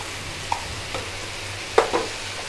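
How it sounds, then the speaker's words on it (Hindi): A spoon stirs spices into okra masala (bhindi) in a pan over low sizzling heat, with a few soft scraping clinks against the pan over a faint steady frying hiss. "इसको अच्छे से मिक्स करके आंच थोड़ी आस्ता कर लेंगे"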